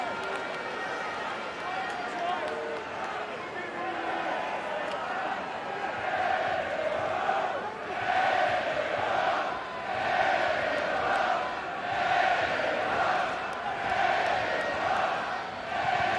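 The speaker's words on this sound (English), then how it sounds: "Crowd trying to transfer their energy onto the field" A large rugby crowd at Leinster versus Edinburgh swells into a sustained roar of cheering and shouting, rising and falling in waves of excitement across the stadium, heard from a distance without nearby talk.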